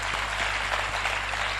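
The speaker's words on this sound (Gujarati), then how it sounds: "કેતનભાઈ માટે જોરદાર તાળીઓ પાડો" Seminar audience applauding for Ketanbhai: a dense, steady wash of clapping from many hands, sustained and fairly loud throughout.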